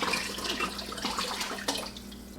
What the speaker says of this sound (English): I'm going to add a little bit more of our filtered water.